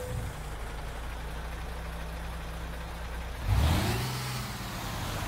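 A Neoplan Cityliner Flixbus coach engine in Euro Truck Simulator 2 hums at a low, steady idle, then revs up sharply about two-thirds through and settles into a louder rising drone.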